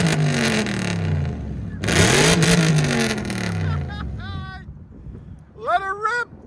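A BMW 740i engine is revved hard toward 7,000 RPM in two loud, close bursts that rise and fall. Shorter whooping, whistle-like tones follow near the end.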